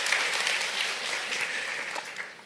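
An audience at a Korean business seminar gives a brief round of applause, a steady wash of clapping from many hands lasting a couple of seconds.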